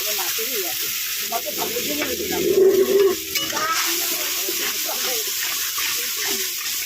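A cumin, coriander and chili spice mixture stirred with a little water in a pan, giving a low wet sizzle and a spatula scraping, with a brief louder splash of added water midway, close by.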